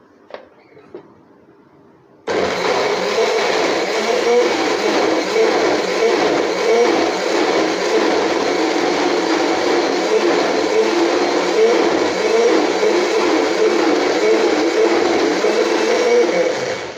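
An electric grinder crushes garlic into paste: a couple of faint clicks, then the motor starts abruptly into a loud, steady whirring grind that runs on close by without speech.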